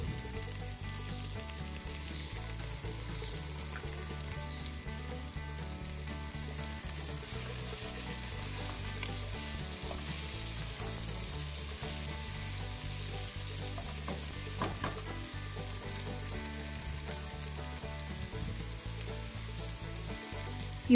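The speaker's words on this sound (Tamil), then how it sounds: "அதையும் சேர்த்து நல்லா வணக்கி விட்டுக்கலாம்." Steady sizzling of tomatoes sautéing in a hot pan, with occasional stirring scrapes, continuous and close throughout.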